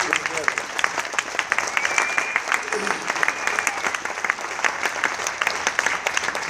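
Audience applauds at the 2016 LVIAC Art Van Damme Education Award presentation honoring Lou Jacklich, a dense, steady wash of many hands clapping that holds evenly for several seconds.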